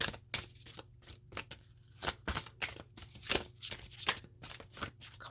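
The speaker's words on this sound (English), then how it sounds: "A couple more shuffles and then I will cut the deck." A deck of tarot cards is shuffled by hand, giving quick repeated riffling and slapping bursts in an uneven rhythm, close and fairly quiet, with no talking.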